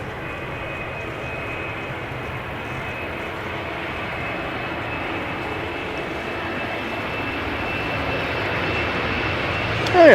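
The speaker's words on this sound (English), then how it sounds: "Embraer 190 to Oslo, KLM flight 1201." KLM Embraer 190 jet departing Amsterdam Schiphol, a steady, moderately loud engine roar that builds slightly over ten seconds, with a sharp burst right at the end.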